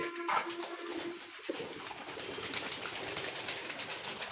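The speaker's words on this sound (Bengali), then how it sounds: "এই যে একটা জালালি কবুতরটা হয়তো ওই জায়গায় থাকে" A jalali pigeon, likely a female, coos softly at close range; a short coo opens the clip, followed by steady rustling and background noise with no talking.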